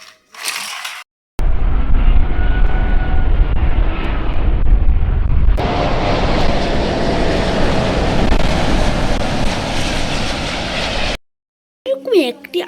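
Steady, loud mechanical engine roar of a white and blue toy aeroplane, running continuously for about ten seconds and changing pitch partway through, with brief bursts of other sound at the start and end.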